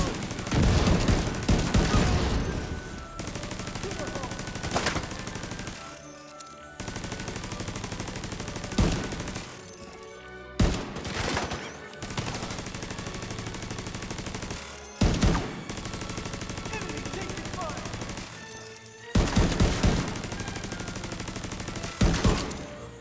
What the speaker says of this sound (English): So let's start firing like this.